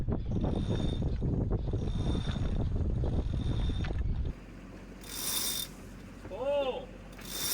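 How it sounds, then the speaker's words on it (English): A sailboat winch turned by hand and not under load gives a rapid mechanical ratcheting click over wind noise, then stops, leaving quieter background with a few brief squeaks and hisses. "A winch in good repair, not under a load, should turn easily by hand and make an audible click, click, click sound."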